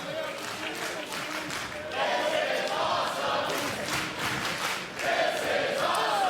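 A wrestling crowd roars and cheers after a kick-out from a pin count during a six-man tag match, with a commentator's voice over the loud, surging crowd noise.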